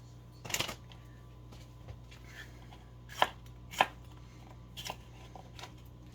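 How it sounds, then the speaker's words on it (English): Sweet peppers sliced into wide rounds with a kitchen knife, giving a few sharp, separate chops spaced out over a quiet background hum, close and fairly crisp. "I'm cutting the rounds kind of big because when it's slow cooking, I don't want them to cook down to nothing"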